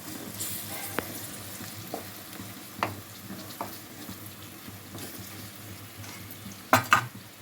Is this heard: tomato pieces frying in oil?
yes